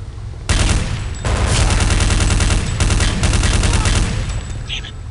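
Loud, sustained automatic gunfire in Counter-Strike: Condition Zero Deleted Scenes, rapid evenly spaced shots in long continuous bursts with brief gaps, close and dominant throughout.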